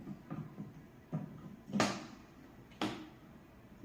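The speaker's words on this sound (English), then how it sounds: "now I'm just going to close the lid" Two sharp clattering knocks of a rice cooker lid being shut, close by, with softer handling taps before them in a quiet kitchen.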